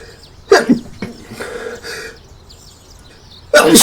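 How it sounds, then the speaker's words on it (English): A person sneezes up close: a sharp, explosive burst with a short follow-on gasp, then quiet breathing, and another abrupt burst at the very end. "Gonna sneeze."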